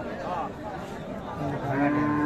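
A cow with her calf at the Ambari livestock haat, with low bovine calls rising near the end over a busy murmur of crowd chatter and nearby talking.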